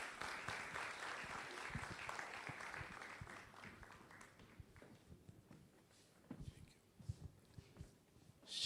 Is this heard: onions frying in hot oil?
no